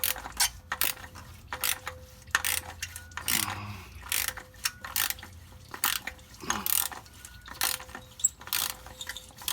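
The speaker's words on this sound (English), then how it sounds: "next up is get that oil filter opener and just crack it open" A wrench cracks open the oil filter cartridge on a Lexus RX350 2GR-FE engine during an oil change, heard as a series of sharp ratcheting clicks and metallic knocks in bursts, close up with no talk.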